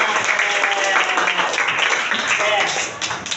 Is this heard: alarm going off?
no